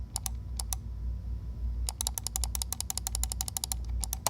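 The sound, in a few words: computer mouse clicking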